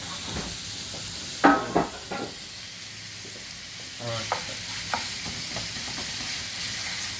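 Sausage fries in a solid pan for lasagna under a soft steady sizzle, with a few sharp scraping knocks as the lumps are broken up, close and without speech.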